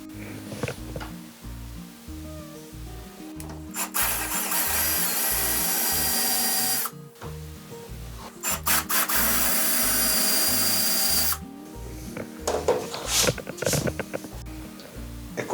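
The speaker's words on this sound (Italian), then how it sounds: "Ora con una punta da 12 mm faremo l'alloggiamento per la testa del bullone M6." A drill press boring with a 12 mm bit to seat an M6 bolt head, its motor humming steadily under long loud grinding cuts, pausing between passes and ending in short rasping bursts.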